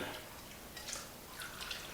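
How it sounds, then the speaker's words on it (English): Simple syrup pours from a spouted container into a bowl of strained limoncello, a soft, continuous trickle and splash, quiet and close with no talking. "we're going to take the simple syrup and we're just going to pour that right in"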